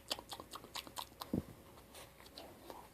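A small child chews a piece of pizza at close range, with a few soft wet bites and mouth smacks clustered early, then quieter chewing trailing off.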